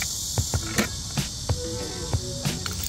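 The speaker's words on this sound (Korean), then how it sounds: "또 뭘 하려고 하면 매미가 엄청 울어" Cicadas drone loudly and steadily outdoors in summer, a dense unbroken buzz with faint scattered taps and knocks beneath it.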